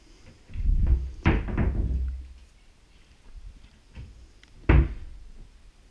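Three-door bedroom wardrobe doors being opened and closed, giving several wooden thuds and knocks, with a sharp close slam near the end, heard nearby in a quiet room.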